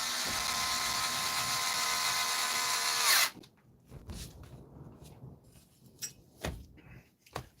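A power screwdriver drives a screw during a battery repair, a loud close whirring whine for about three seconds that cuts off sharply, followed by light handling knocks and clicks.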